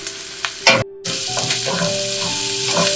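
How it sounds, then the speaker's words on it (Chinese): Minced garlic stir-fried with softened onion in a very hot pan for a Marry Me Chicken dish: a close, steady sizzle crackles throughout, broken by a few stirring scrapes and one brief dropout, with no voices. "蒜末很容易糊，所以炒个几十秒就可以了"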